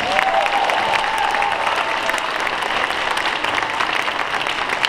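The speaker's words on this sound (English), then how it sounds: "How about one more round of applause, 5th grade band?" An audience applauds the 5th grade band at a school concert, a dense, steady wash of clapping that holds evenly for the whole stretch, with a faint tonal whine near the start.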